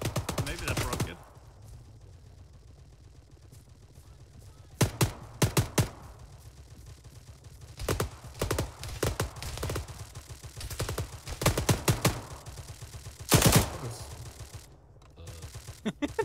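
Suppressed gunfire in the video game Arma 3: sharp, short cracks fired singly and in quick bursts, spaced irregularly over a low steady background rumble, with a few louder volleys toward the end.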